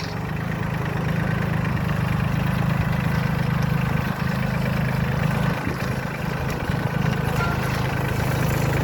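A Solis 26 tractor drives in low gear while turning, its engine a steady, loud, low drone that stays even throughout with no talk.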